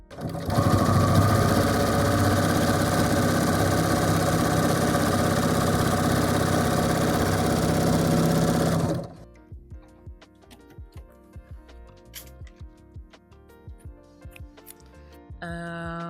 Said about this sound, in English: It is a very, very good all-around sewing machine.